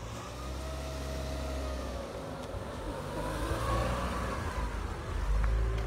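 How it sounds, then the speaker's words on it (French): A car passes by outside, its engine hum and tire rush swelling steadily over several seconds and staying muffled and moderately distant, with no talking over it. "Attendez, il y a une voiture qui passe."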